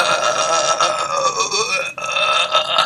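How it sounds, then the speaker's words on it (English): A long, loud, drawn-out burp in a classroom setting, rumbling continuously for nearly three seconds with a short break near the end before it carries on. "I can't believe you burped in class"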